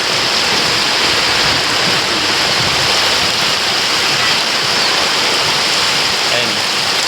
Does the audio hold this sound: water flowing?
yes